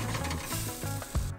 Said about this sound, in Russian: С этой стороны обжариваем ровно столько же.